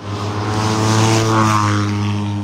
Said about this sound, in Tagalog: Ayos yung motor na yun.